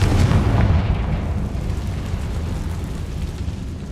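Confringo spell explosion in the Hogwarts Legacy video game, a heavy low boom that rumbles and slowly decays over a few seconds, loud and alone.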